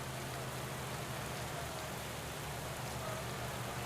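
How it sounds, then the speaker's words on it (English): Steady rain falls in Pro Cycling Manager 2020, a constant even hiss of downpour with a low rumbling bed beneath, moderately quiet and unbroken throughout. "it's starting to rain"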